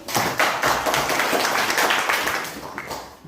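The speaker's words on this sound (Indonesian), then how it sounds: "tepuk tangan buat Kelvin" A classroom of students claps for a classmate after a persuasive speech, a short burst of many hands clapping close by, fading slightly toward the end.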